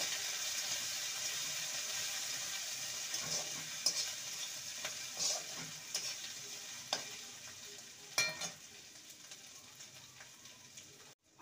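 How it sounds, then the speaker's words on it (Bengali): Ginger paste fries in a pan over whole cumin seeds, giving a soft, continuous sizzle broken by occasional scraping stirs. It stays fairly quiet throughout and ends with a sharp knock. "আদাটাকে ভেজে নেব।"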